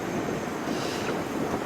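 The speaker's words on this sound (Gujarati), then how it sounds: "પવન છે એટલે વાળ બહુ ઉડે છે" Steady wind buffets the microphone outdoors along a pilgrimage walking route, a continuous broadband roar with gusting swells and no speech.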